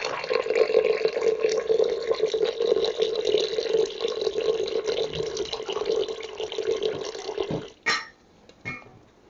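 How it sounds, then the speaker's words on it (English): Water running from a tap into a pot to cover food in a kitchen, a loud continuous splashing stream for several seconds, then it shuts off with a couple of brief drips and clunks. "And then now we need to cover that with water."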